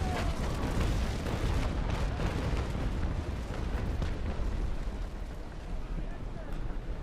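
Ship cannons firing in the naval combat game Naval Action, a dense, rolling series of heavy booms and rumbling blasts that continues throughout at a steady loudness.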